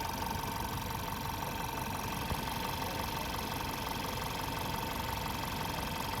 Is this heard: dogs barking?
no